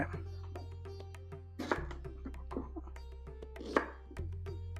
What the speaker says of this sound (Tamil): ஃப்ரண்ட் அண்ட் பேக் கட் பண்ணிவிட்டு சென்டரை கட் பண்ணேன்